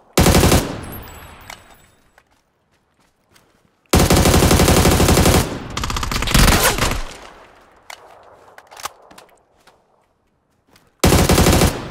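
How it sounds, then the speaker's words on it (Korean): Automatic gunfire in the shooter game PUBG, loud close bursts of rapid machine-gun fire lasting a few seconds each, separated by near-silent gaps and a few isolated shots. "쟤 진짜 잘 쏴."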